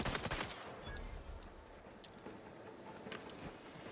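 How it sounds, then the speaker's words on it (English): Revolver gunfire in the video game Outer Worlds 2: a burst of sharp, loud shots at the very start, then a lingering noisy tail of ambient game sound. "So I can shoot it like this, like a revolver."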